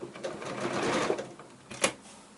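A sewing machine runs slowly while stitching curves with a short 1.8 stitch length, giving a soft steady mechanical whir that stays faint and close, with a brief louder clack near the end.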